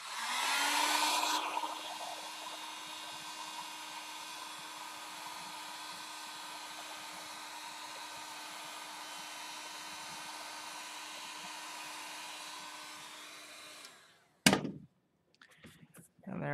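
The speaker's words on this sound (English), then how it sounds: "So hit it with our heat gun." A heat gun blows onto a foam prop carved with wood-grain tool marks, a steady close whooshing drone with a faint whine that runs for about thirteen seconds and then cuts off, followed by a couple of clunks.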